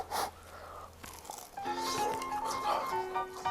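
Someone bites into crispy, golden pan-fried tofu fried over medium heat, with a sharp crunchy bite followed by close, soft chewing while a voice speaks briefly.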